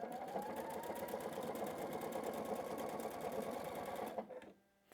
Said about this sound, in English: I'm going to use my start-stop button to do this.